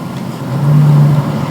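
Looped exterior recording of a car running, a low steady engine hum that swells midway into a brief sustained drone, then settles back, with no talking.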